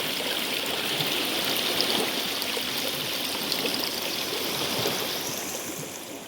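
Cold spring water rushes and splashes steadily into the sea, a continuous close stream flowing without pause, no voices.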